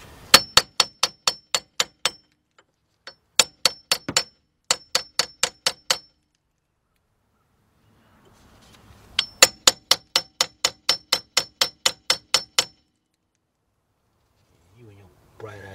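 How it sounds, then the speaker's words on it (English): A hammer drives a chisel against the front right wheel bearing hub of a 2008 Audi A6 Quattro 3.2, ringing out in close, sharp metallic strikes fired in rapid bursts of six to fourteen blows with brief pauses between. "get the hammer"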